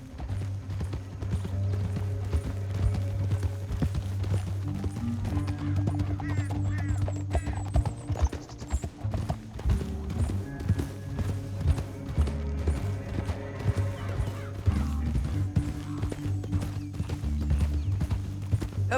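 Horse hooves clip-clop at a gallop in the Red Dead Redemption 2 epilogue, a steady, driving rhythm of several horses running under loud game music and ambience, with a brief neigh.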